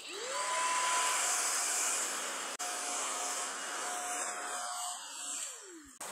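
A Corvan K9 Pro cordless vacuum cleaner runs with a steady, loud high-pitched whir and airy rush, a brief dropout midway, then the motor winds down at the end; no voices.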